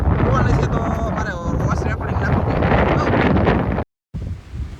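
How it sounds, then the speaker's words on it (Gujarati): Strong, loud wind at the sea during a storm buffets the microphone continuously, with a roaring rush and a brief dropout near the end. "એટલો પવન ગાંજતો કે વાત ન પૂછો"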